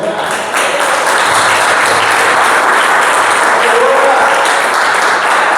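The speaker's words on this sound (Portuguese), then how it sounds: "Você pode aplaudir ao Senhor?" A church congregation bursts into loud, sustained applause for the Lord, a dense steady wash of many hands clapping with crowd murmur beneath.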